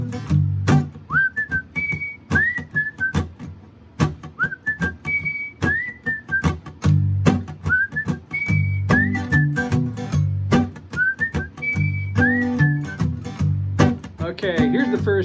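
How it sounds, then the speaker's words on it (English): A person whistles the bouncy intro melody of a song alone, repeating the short rising-and-falling phrase four times in clear, close tones over a faint low accompaniment. "You get to whistle. Here's the part."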